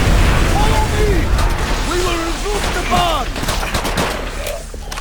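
Gunfire from Call of Duty: World at War, rapid bursts of shots and booms blended with game effects, while a player talks excitedly over the action.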